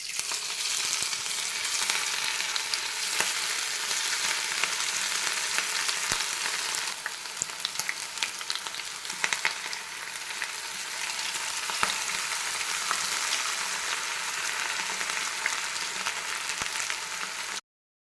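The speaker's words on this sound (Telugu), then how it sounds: "ఆయిల్ అనేది వేడెక్కేసిందండి సో ఇప్పుడు దీంట్లో చికెన్ని వేసేసుకోవడం అనమాట" Chicken pakodi pieces frying in hot oil, a steady dense sizzle with crackling bubbles that holds loud and close for the whole stretch, with no talk over it.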